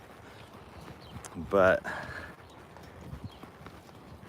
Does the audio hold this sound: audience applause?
no